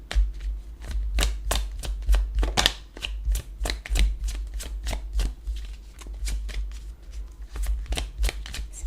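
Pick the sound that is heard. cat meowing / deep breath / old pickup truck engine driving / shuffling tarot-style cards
shuffling tarot-style cards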